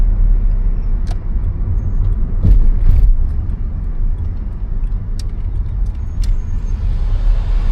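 A car's engine hums at low speed through a right turn during a Florida driving test, a steady near rumble with a few faint clicks and ticks on top and no voices.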